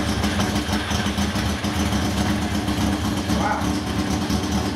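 Motorcycle engine of a cafe scrambler build with freshly set-up carbs, running at a steady loud idle close by, with a brief voice exclaiming over it.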